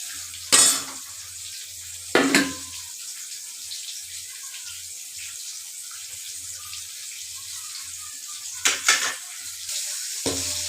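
Tangra fish pieces go one by one into simmering gravy in a pan, each drop making a short, sharp splash and sizzle, with long quiet stretches and a low hum between them.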